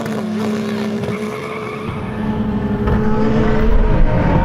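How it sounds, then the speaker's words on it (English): Nissan GT-R and Lamborghini drag racing, a loud continuous engine roar with rising harmonic tones as the cars accelerate hard, building in intensity toward the end with no talking. "We're just going to do another drag race to see."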